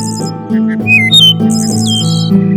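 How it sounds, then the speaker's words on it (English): A wood thrush in an eastern U.S. forest sings loud, clear, flute-like phrases, several whistled notes and trills in quick succession over a low steady hum. "its loud, flute-clear song rings through the forests of the eastern U.S. in summer"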